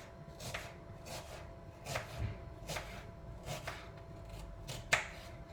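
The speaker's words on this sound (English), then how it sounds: "So we have our onion like this. And then I'm gonna cut it." A knife chops through an onion on a board while cooking katsudon, with about seven crisp, evenly spaced cuts and the last one sharpest, close up over quiet room hum.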